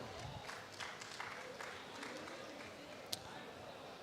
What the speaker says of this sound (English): a big round of applause from our students out here